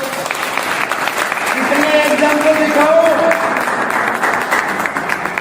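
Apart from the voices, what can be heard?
audience applause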